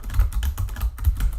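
A computer keyboard typing a name, a quick run of close, even keystrokes with soft thuds, clear and uninterrupted.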